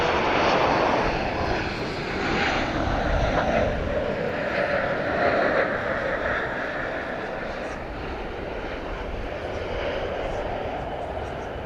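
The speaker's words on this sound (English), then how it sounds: "wow, 747" A Boeing 747 airliner takes off at DFW Airport in the evening, its engines a loud, steady roar throughout that fades slightly toward the end, with a voice talking faintly underneath.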